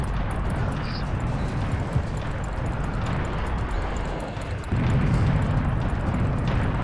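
Cannon fire and explosions from the video game Serious Sam form a loud, continuous roaring barrage with scattered bursts, swelling even heavier near the end.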